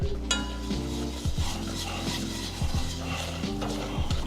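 A spatula stirs a flour roux in a pan for mac and cheese, making repeated scraping strokes with a soft sizzle underneath, close and steady, no voices.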